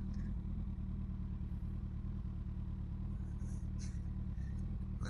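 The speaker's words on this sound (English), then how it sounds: "Let this car go around me." Cars and a Kawasaki Ninja ZX-14R motorcycle idle and roll across a narrow bridge with no guardrails, a steady low engine rumble running throughout with light clatter and a passing car going around the bike.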